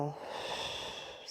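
Steady breathing during a back-strengthening workout, a continuous airy exhale that holds at an even level close to the microphone, alone for a little over a second.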